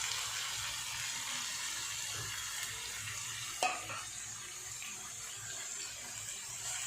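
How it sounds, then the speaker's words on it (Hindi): Minced meat and potatoes stirred in a pan, a soft sizzling hiss throughout with scraping strokes and one sharp clack of the utensil midway, close and steady, no speech. "इन सारे चीज़ों को अच्छी तरह से मिक्स करेंगे।"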